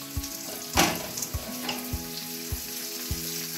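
Chopped tomato goes into a pan of vegetables softening in oil, and a steady close sizzle of frying continues with a few sharp clatters and stirring knocks over about four seconds.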